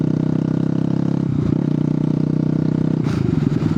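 A Bajaj Pulsar NS200 motorcycle with an aftermarket exhaust idles close by with a rough, pulsing burble, and short throttle blips break the steady beat twice.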